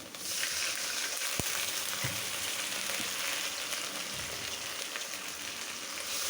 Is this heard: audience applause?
no